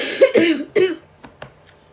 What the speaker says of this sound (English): I'm so sorry about the coughing.